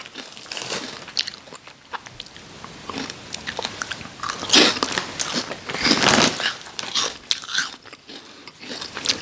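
Close, crisp bites and crunching of small mala-flavoured puffed rice crackers, a run of sharp irregular snaps and chews over about nine seconds with no talking.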